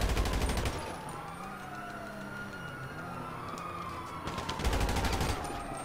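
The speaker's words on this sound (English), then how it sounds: "There's a freaking sniper and the cops are shooting me too." Gunfire from a sniper and police in the video game GTA Online, heard as a burst of shots at the start and another near the end, with a siren-like wail sweeping through the middle.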